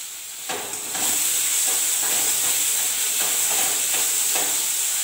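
Onion paste and salt go into frying fish curry with aloo, giving a steady loud sizzle and hiss with a few faint stirring scrapes, no voices over it.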